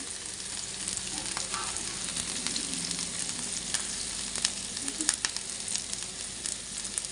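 Curry leaves frying in hot oil in a home kitchen pan, a steady loud sizzle with scattered pops and crackles throughout, no voices.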